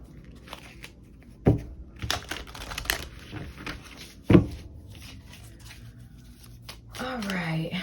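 Tarot cards handled and shuffled during a reading, with soft papery riffles and taps punctuated by two sharp snaps near the start and middle, close and clear, while a voice talks intermittently.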